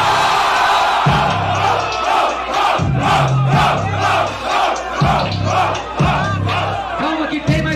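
A rap battle audience roars and shouts loudly in surging waves of cheering and battle-cry bellows, close and sustained, with a few brief lulls between bursts.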